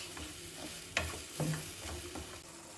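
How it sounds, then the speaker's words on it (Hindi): Tomato puree and spices stirred and cooking in a pan for Mughlai dum aloo, with soft scraping stirs and a few louder spoon knocks over a low, steady background sizzle. "सब चीज़ों को अच्छे से मिक्स करते हुए 3-4 मिनट के लिए हम इसको पका लेंगे।"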